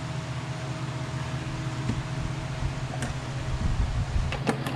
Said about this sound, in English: we got our oven preheating at 200 degrees